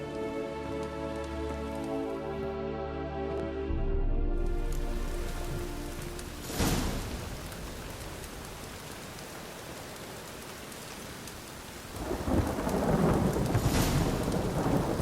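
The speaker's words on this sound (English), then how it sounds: "Rain again." Steady rain falls in The Witcher 3, with thunder rolling in loud bursts and a long crackling peal, a sustained wash of rainfall between the claps and no voices.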